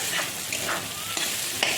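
Pointed gourd and potatoes fry in a pan, giving a dense close sizzle broken by a few soft stirring scrapes.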